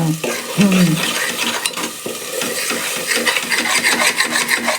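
Chicken and masala sauté in a pan, giving a loud sizzle mixed with rough scraping as a spoon stirs them in quick strokes close to the mic; no speech.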